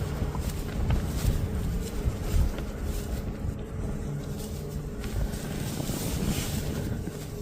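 Wind buffets a tent at a campsite, a steady, fairly loud rushing gust noise with low rumbles and occasional flaps close to the microphone.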